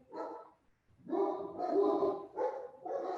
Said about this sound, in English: Sorry, mailman's here, little dog barking.